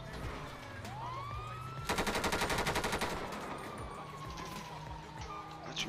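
Automatic gunfire sprays in a burst of about a second during a GTA roleplay police assault, with a wailing siren and ambient game noise running underneath.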